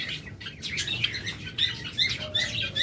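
Caged lovebirds and budgerigars chirping together, a busy overlapping jumble of sharp high tweets and chatter with soft fluttering, moderately near and with no talking.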